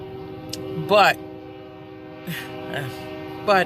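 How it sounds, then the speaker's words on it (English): A train passes in the distance behind steady low talk, its horn sounding in several short bursts, the loudest near the start and again at the end. "there's a train in the background"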